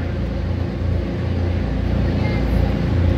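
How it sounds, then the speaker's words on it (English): Indy Lights race car engines idle and rev while warming up on the grid at Mid-Ohio, giving a dense, loud, continuous low rumble with slight fluctuations. "As I said, engines firing up, warming up."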